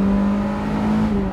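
A Mazda MX5 sports car engine with a Lotus-inspired cam cover revs steadily and loudly up close, a sustained droning tone holding through the short stretch with no voices.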